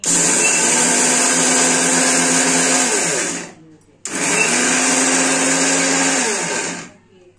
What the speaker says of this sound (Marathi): मिक्सरला आपण बारीक करत आहोत. मिक्सरला आपण पेस्ट करून घेत आहोत.